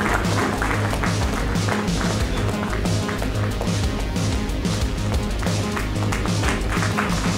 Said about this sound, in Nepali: पहिलो यहाँको तालीको हामी अपेक्षा गर्छौँ।